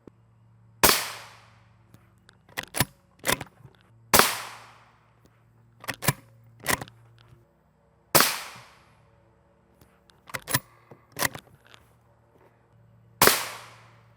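Rifle shots, including M855 and M193 rounds, strike NIJ level IV body armor on a range, sharp loud cracks spaced a second or two apart, some single and some in quick pairs, with no voices.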